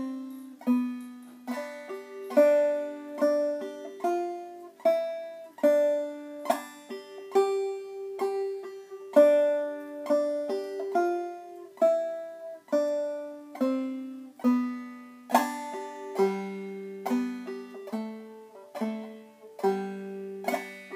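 Clawhammer banjo picks out a basic bum-ditty tune, with steady bright plucked notes and a brushed strum in a loping, even rhythm, played solo and close with no voice.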